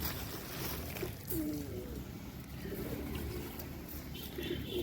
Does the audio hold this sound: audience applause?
no